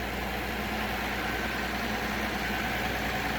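Farm tractor engine running steadily close by on a centennial dairy farm during cow feeding, a continuous low rumble with no breaks and no talk over it.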